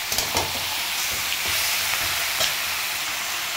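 Food frying and being stirred in a pan over a high flame: a loud, constant sizzle broken by short scraping strokes of the stirring spoon, close up and with no one talking.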